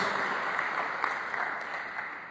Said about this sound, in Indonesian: Beri tepuk tangan yang terbaik buat Tuhan Yesus Kristus.